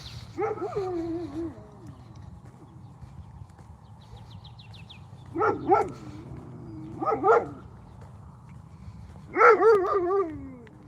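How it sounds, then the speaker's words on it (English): Dog barks come in separate bursts, one early and then a few doubled barks later on, moderately close, with quieter whimpering tones between the bursts over a low background hum. "We're gonna hold on while this dog barks."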